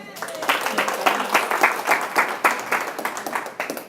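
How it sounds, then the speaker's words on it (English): An audience gives a round of applause to a presenter, rhythmic clapping at a steady beat, fairly loud and close, with voices faintly mixed in. "Let's give him a round of applause."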